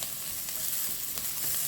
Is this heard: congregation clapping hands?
no